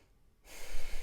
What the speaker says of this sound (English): I'm taking another deep breath in, as if breathing through your heart space in the middle of your chest.